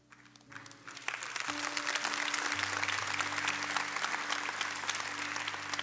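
Studio audience applause rising quickly after a brief lull and holding steady as a dense, continuous wash of clapping, with low background tones underneath.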